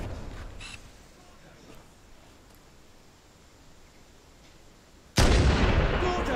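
Sniper rifle gunfire in Halo: Combat Evolved, a single loud sudden shot near the end that cuts through quiet ambient game noise and leaves a sustained roar.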